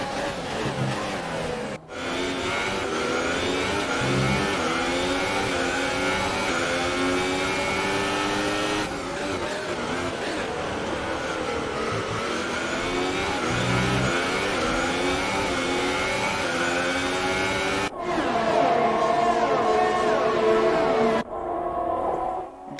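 Formula 1 cars racing in the video game F1 2018, Ferrari and Renault battling for position; continuous high-pitched engine whine with rising and falling revs and gear shifts, loud and steady throughout.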